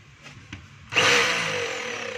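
Repaired DeWalt D25032 rotary hammer under test, a few faint knocks, then the motor starts with a loud high whirring run held steady up close, with no talk.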